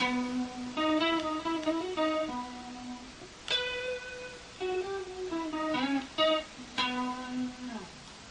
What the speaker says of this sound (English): let's get a chorus effect. Try chorus, that sounds good.